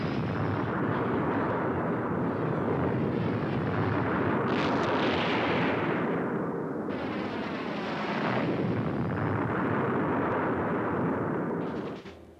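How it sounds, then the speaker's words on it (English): Bombing of the old city of Hue during the Tet fighting, heard as a dense, continuous roar of heavy blasts and rumbling detonations, loud and sustained throughout with no voices. "They decide to bomb the old city, until now spared because of its historical significance."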